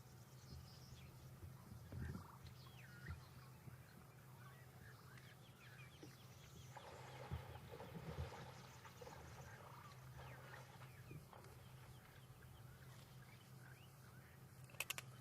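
Honking, clucking calls of Egyptian geese carry across an outdoor safari scene over a steady low hum, with a busier burst of calls in the middle.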